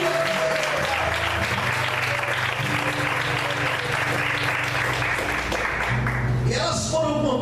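Sustained applause from a church congregation fills the space steadily, with music playing underneath and a few voices rising near the end.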